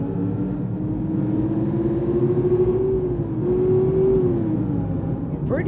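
A car engine in the driving game BeamNG.drive accelerates with a steady, moderately loud rising whine over a low rumble. The pitch climbs, dips briefly and climbs again, with no talk over it.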